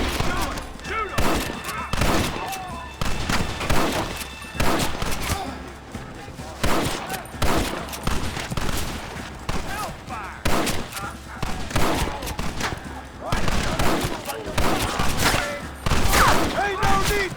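Battle gunfire in a video game, with dense rifle and machine-gun bursts and heavy thuds crackling almost without a break, loud and close, while voices shout over the fighting.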